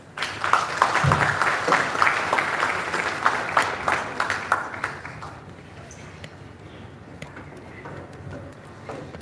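An audience at an energy sector conference applauds loudly for several seconds, dense clapping that thins into scattered claps and fades to quiet room tone.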